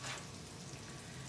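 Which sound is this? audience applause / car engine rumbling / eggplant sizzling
eggplant sizzling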